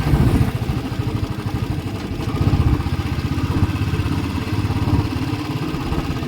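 Motorcycle on a road trip from Omkareshwar to Grishneshwar, its engine droning steadily with a rough, pulsing throb as the rider slows over speed breakers; loud and close, wind-buffeted, with no talk.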